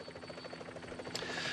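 A helicopter filming the final kilometers of a stage of a professional cycling race in light rain gives off a faint, steady rotor buzz with a soft whooshing swell toward the end.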